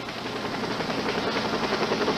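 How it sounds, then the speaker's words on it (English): A Flight for Life medical helicopter arriving at a mountain rescue scene, its rotor throbbing in a steady rapid pulse, loud and close, filling the whole stretch with constant engine roar. "A Flight for Life helicopter arrived"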